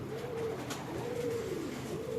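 Black-faced pigeons coo softly in a slow, rhythmic series of three rolling coos, alone against a quiet background.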